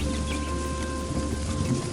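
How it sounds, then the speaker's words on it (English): Rain falls steadily in the Amazon jungle, a dense, even hiss of drops on foliage with a faint low rumble beneath, close and continuous with no voices. "The seasons shift, the rains return, the river rises and reclaims the land."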